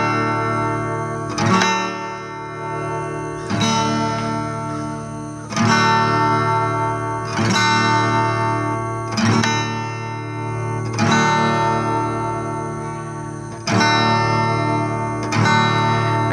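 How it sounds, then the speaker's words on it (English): Acoustic guitar chord strummed downward from the sixth string on a porch, repeated about nine times in a steady slow rhythm, each strum ringing out close and clear with no talk. "From the 6th string down, strum the chord. It should sound like this."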